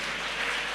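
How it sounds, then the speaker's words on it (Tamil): Brief burst of many hands clapping together in a church congregation, a dense crackle of applause from a group, heard alone without talk. "பலத்த கரங்களை தட்டி தேவனுக்கு 3 அல்லேலூயா சொல்லுங்கள்"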